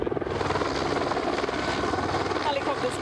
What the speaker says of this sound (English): Helicopters douse the flames with monsoon buckets.